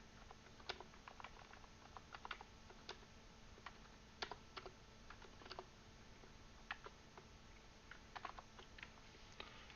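Someone types on a computer keyboard, a quiet, close run of irregular key clicks with small bursts and pauses and no voices.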